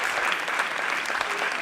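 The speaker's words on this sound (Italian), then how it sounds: "un applauso a Giuseppe" An audience at a comedy show bursts into applause, a full, even wash of clapping from many people that holds steady throughout.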